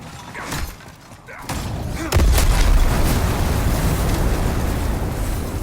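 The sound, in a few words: Firestorm spell explosions in video game Demon's Souls Remake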